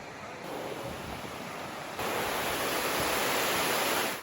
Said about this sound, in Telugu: చలి తక్కువ ఉంది కానీ గాలి చాలా ఎక్కువ ఉంది, విండ్.